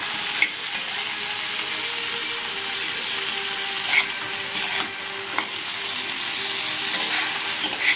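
Small shrimp and raw tomato chorchori cooking in a pan, a steady soft sizzle and bubbling with a few faint clicks of stirring, fairly close and continuous with no talk.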